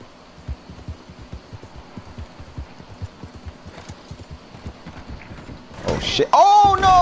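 A horse gallops in Red Dead Redemption 2 Online, with quick, steady hoof clip-clops close up that build in intensity before a loud neigh and other sharp game sounds at the end.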